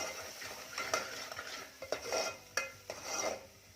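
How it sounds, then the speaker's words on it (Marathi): Roasted coconut spice paste being sautéed in oil for a Malvani-style white pea curry, quiet close scraping and stirring strokes of a spoon against the pan with a faint sizzle between them. "फक्त मी हे तेलामध्ये थोडं परतून घेते"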